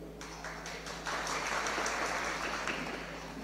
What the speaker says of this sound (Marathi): तुम्ही ऐकलंच नाही, टाळ्या वाजल्या.